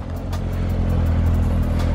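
A Chevrolet Corvette Z06 in dark greenish-blue metallic paint rolls up close by, its engine giving a steady low rumble with light clatter throughout, loud and continuous with no talking over it.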